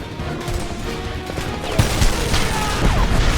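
Heavy gunfire erupts in a first-person shooter video game battle: dense, overlapping bursts of shots with crashing impacts, growing louder and more chaotic toward the end.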